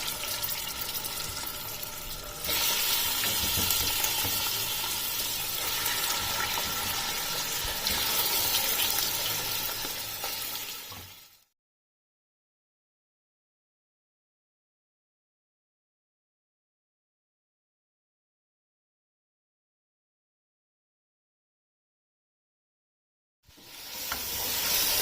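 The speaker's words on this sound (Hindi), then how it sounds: "चिकन को इसमें लाइट गोल्डन ब्राउन कलर आने तक फ्राई कर लेना है।" Chicken frying in oil with cumin and whole garam masala for chicken pulao, a dense steady sizzle with stirring for about eleven seconds, then silence before the sizzle resumes briefly at the end.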